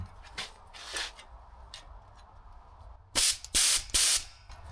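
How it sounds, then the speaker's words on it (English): Compressed air blasts through an interior part of a 1984 AE86 coupe in a few soft hissing puffs, then three loud, close sprays in quick succession, with no talking. "Let's go back to our compressed air now that we've seemingly cleared enough of that out."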